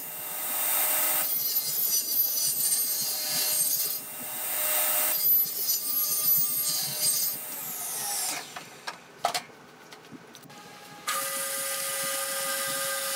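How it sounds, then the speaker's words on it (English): A bandsaw cuts through a small piece of wood for a wooden project, a loud steady buzzing rasp in bursts over the first several seconds, then the blade whines down into quieter clatter and a steady hum. "cutting that little bit on the bandsaw was pretty easy after that"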